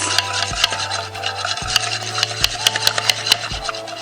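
A spoon scrapes and rubs around a bowl while tapioca starch is stirred into kutsinta mixture, giving repeated rasping strokes in a steady back-and-forth rhythm, close and fairly loud.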